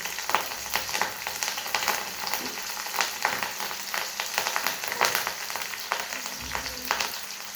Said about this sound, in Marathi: आता आपण त्याच्यात हिरवी मिरची टाकूया